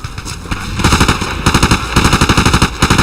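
A weapon fires in Battlefield 2: rapid automatic bursts of close, loud gunshots in a steady rhythm, with short pauses between volleys.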